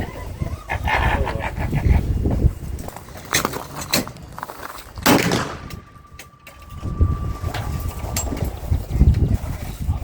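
A dog barks at an outdoor black powder shooting meet: several short barks scattered through a busy, noisy outdoor background with a few sharp bangs.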